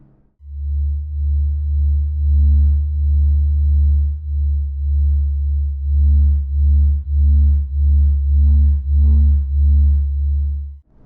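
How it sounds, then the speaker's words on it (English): NASA recording of the sun's vibrations rendered as an eerie deep hum, a loud steady low drone with slow pulsing swells and faint higher tones, heard alone. "NASA has captured the sun's vibrations using specialized instruments, revealing an eerie, deep hum."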